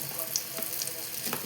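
A Maggi noodle and egg snack fries in a pan with a soft, even sizzle and light crackles, heard close and alone for a moment.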